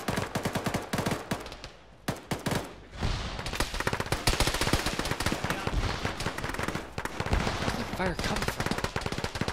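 Heavy firefight in the military game Arma with the ShackTac group: rapid automatic bursts and single shots crack close and loud in dense succession, with a short lull, while a voice briefly speaks.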